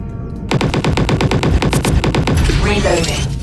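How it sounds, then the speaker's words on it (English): Rapid automatic gunfire in the Roblox video game, a loud, evenly spaced burst of about a dozen shots, followed by a denser clattering stretch of continued firing. "Keep firing at this guy."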